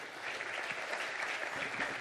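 An audience claps for a speaker at a conference session, a brief, even patter of many hands at moderate distance.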